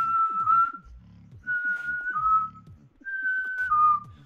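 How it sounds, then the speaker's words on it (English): One continuous whistle repeatedly steps from a normal pitch up to a higher note and back in three phrases, close and clear, with soft tongue clicks and breathy percussive sounds underneath. "alternate from that to the higher one in one continuous whistle"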